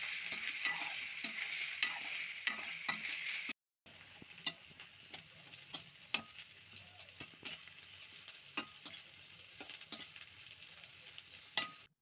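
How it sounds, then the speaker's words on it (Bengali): Chopped onions fry in a pan for ghugni with egg, a steady close sizzle broken by a brief gap, then continuing with sharp spatula scrapes and occasional crackles. "পেঁয়াজটা একটু ভেজে নেব"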